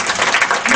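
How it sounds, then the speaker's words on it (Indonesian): A church congregation claps in a brief, dense burst of applause. "Boleh tepuk tangan Yesus?"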